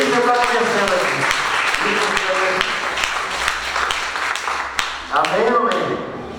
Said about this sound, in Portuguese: Dê um aplauso a Ele, dê um aplauso a Ele